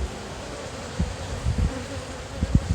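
Honey bees swarm and buzz around a nuc hive box, a dense steady drone close up with a few louder low thumps and bumps near the end.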